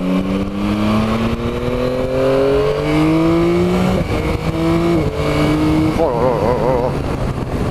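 A Yamaha Tracer 900 motorcycle engine rises in pitch through several gear changes, each shift dropping the tone before it climbs again, loud and close with wind rush over the whole run.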